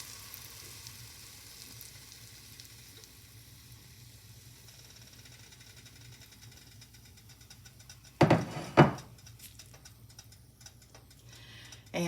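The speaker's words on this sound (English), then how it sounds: "I'm gonna go ahead and pour this in. You hear that sizzle?" A steady, quiet sizzle runs throughout as cornbread batter fries in a hot cast iron skillet, broken by a brief louder clatter near the end; no talking.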